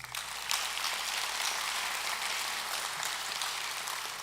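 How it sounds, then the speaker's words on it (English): Graduation audience in a hall applauding a vice president for student support services, a dense, even wash of clapping that swells quickly and holds steadily at moderate volume. "With your applause, recognize Melissa."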